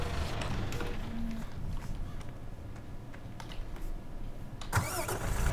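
A lorry engine in the Farming Simulator 17 video game runs steadily at a medium, rumbling idle, loud and continuous throughout, with a brief rise near the end.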